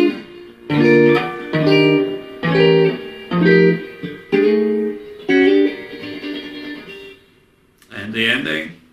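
Guitar plays blues chords as a string of six ringing chord stabs in an even rhythm, close and clear, followed by a short pause and one last chord.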